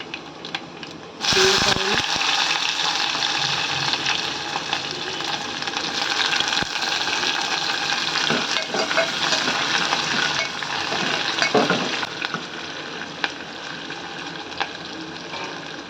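Onion, dry red chillies and curry leaves fry in hot oil for an eggplant curry, a loud, steady sizzle that bursts in suddenly and crackles on throughout, with occasional scrapes and spatters.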